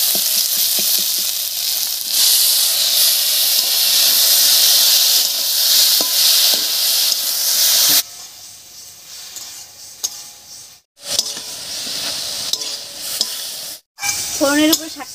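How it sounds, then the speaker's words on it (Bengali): Pumpkin greens tossed into a garlic and green chilli tempering in mustard oil, loud frying sizzle with spatula clinks and stirring, then quieter bursts broken by brief silences and a final sharp hiss. "ফোড়নের উপরে শাকটা দিয়ে বেশ একটু নাড়িয়ে নিয়েছি"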